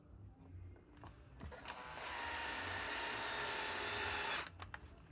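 A Torx screw is driven back into the dash trim of a 2016 Ford Transit 150 during a radio install. A steady, fairly loud powered whine holds for about two seconds, then stops, with faint clicks around it.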